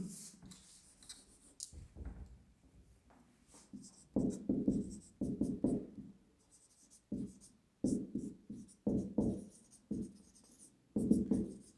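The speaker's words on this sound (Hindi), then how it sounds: "यहाँ पे इसको संशोधन लिखेंगे।" Writing on a board during a political science lecture, heard as close, scratchy strokes that come in short bursts separated by brief pauses, with a faint voice in the background.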